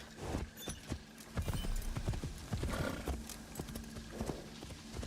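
Hooves clip-clop in a steady rhythm as a horse runs in Assassin's Creed Shadows, with a short whinny and game ambience underneath; the hoofbeats are close and fairly loud, with no talk.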